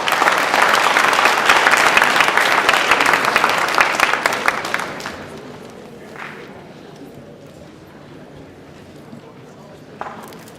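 An audience at a student recognition ceremony breaks into dense, lively applause for about five seconds, then it fades to a quiet room with faint shuffling and a stray noise near the end.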